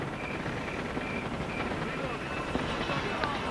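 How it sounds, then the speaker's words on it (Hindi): Helicopter in the mobile shooter Call of Duty Mobile, a steady rotor drone filling the background at moderate level alongside other game sounds, with talk over it. "पूरा हेलीकॉप्टर आ रहा है अपने पीछे।"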